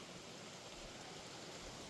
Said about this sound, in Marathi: हा धबधबा खूप सुंदर आहे